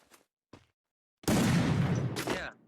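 Rapid burst of gunfire from a shooting video game, loud and dense for about a second and a half after a couple of faint short sounds.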